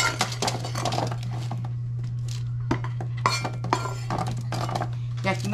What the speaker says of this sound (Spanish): Y ya lo vacían a su charola de aluminio.